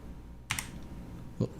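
A new computer keyboard gets a couple of quick clicky keystrokes, the first a close double tap and another a moment later, with no talking over them.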